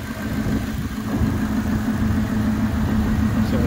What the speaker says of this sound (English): It's kind of got a motorcycle tuned sound to it.